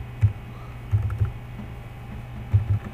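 Typing an SQL insert query on a computer keyboard, a few soft close keystrokes in small clusters over a low steady hum, with pauses between bursts.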